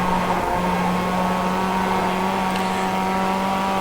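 Race cars lap Summit Point race track on cold tires, a steady loud engine drone holding one pitch throughout, with no talking.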